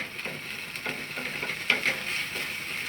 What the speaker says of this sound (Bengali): এটা ভালো করে নেড়ে নিচ্ছি।